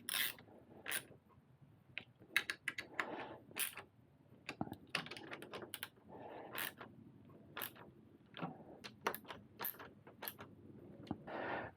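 Bolts on KTM Duke 390 engine case protectors being run up by hand and tightened, giving a series of close, quiet metallic clicks and ratcheting creaks in irregular bursts.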